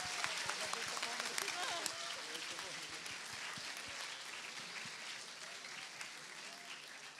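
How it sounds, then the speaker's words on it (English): At a model UN conference opening ceremony, a roomful of people claps steadily for International Women's Day, with dense, close hand claps that ease slightly in loudness, and some voices underneath. "Clapping is definitely in order for all the incredible women in this room and everywhere else."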